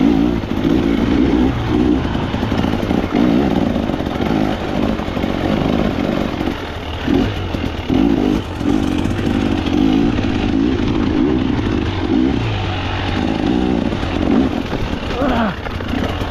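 A KTM motorcycle ridden off-road, its engine droning loud and steady throughout with rough, shifting revs, up close.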